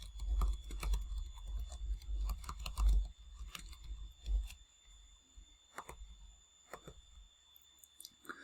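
Someone types a short topic line on a computer keyboard, making quiet, irregular key clicks in bursts with brief pauses between them, close by and without speech.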